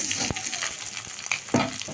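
Onions and mustard seeds fry in a pan, a soft crackling sizzle broken by sharp clicks and scrapes of stirring, close up with no voices.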